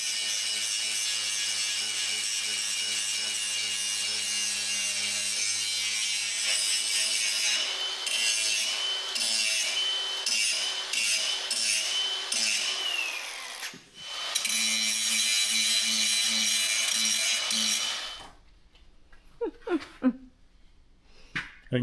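A power tool grinds steadily to sharpen a homemade digging tool made for a propane line trench, a loud continuous whine that wavers in pitch and then cuts off, leaving a few faint knocks.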